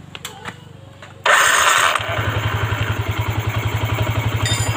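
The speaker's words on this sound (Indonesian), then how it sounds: "sekarang kita hidupkan untuk motornya terlebih dahulu ya" A Yamaha NMAX scooter engine, recently rebuilt after a broken piston, cranks with a starter whir, catches, then settles into a steady, close, rhythmic idle.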